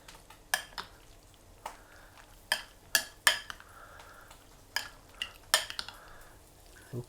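Potato salad being stirred in a bowl, with a spoon knocking and clinking against the sides in irregular sharp taps over a quiet scraping, close up and with no talking.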